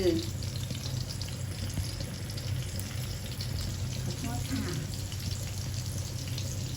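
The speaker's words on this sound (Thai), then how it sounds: "ตอนนี้แม่ก็ทอดปลาแล้วนะคะ" Steady sizzling and crackling of fresh mackerel frying in hot oil, continuous and moderately loud, with faint clinks in the background.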